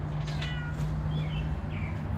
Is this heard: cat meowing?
yes